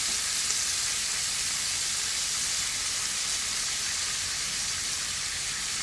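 Pepper shrimp pan-frying in hot oil give off a steady, even sizzle and hiss that carries on unbroken at close range, with no voices.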